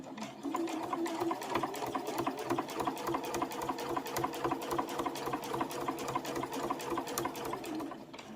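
A domestic sewing machine stitching quilting fabric at a long stitch length, a fast even rattling hum of the needle running steadily for several seconds, close and alone with no talk.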